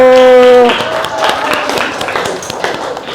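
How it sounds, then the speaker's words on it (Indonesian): An audience in a pharmacy teacher's classroom performance session claps hands in a dense, steady burst that follows a brief sustained tone, continuing for a few seconds at close range. "Tepuk tangan dulu"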